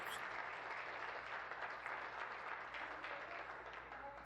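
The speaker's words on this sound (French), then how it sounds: "Il faut l'applaudir." Parliamentary chamber applause welcoming a guest among members, a sustained broad roll of clapping from many hands, even and continuous for over four seconds with a faint low hum underneath.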